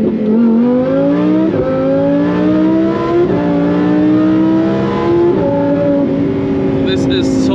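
850 hp Lamborghini Huracan Performante in Corsa mode with manual shifting: a loud, close engine note climbs steadily, broken by three quick gear shifts, each dropping the pitch before it rises again.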